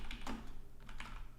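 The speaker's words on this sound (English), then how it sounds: "I'm just typing all the commands that we typed before." Steady clatter of computer keyboard typing while shell commands are entered, a run of quick close key clicks with a few louder strokes, no voices.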